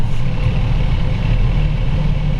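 A 2018 Freightliner 108SD dump truck with an Allison 3000 automatic pulls away from a complete stop, its diesel engine giving a loud, steady low rumble that stays constant throughout this brief moment.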